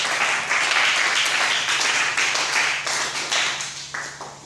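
A church congregation breaks into sustained applause for the Lord, a dense, steady wash of many hands clapping close by that tapers slightly toward the end, with no talking over it.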